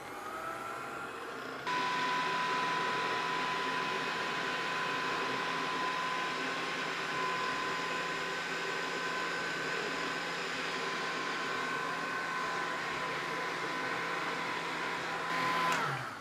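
A kneading machine mixes braided brioche dough with a steady, loud motor whir and a constant tone, starting abruptly after a brief quieter moment and running on evenly without talk.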